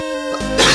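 A single short, harsh cough bursts out close to the microphone after a brief moment of throat sound.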